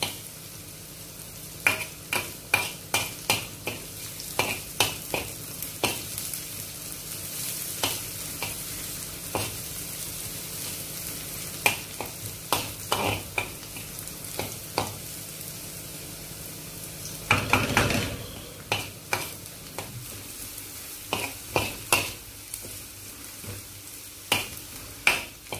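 Chopped onions sizzle steadily in a small amount of hot oil until crispy, with regular scraping stirs of a utensil against the pan repeating throughout and a brief louder burst of sizzling midway, no talk.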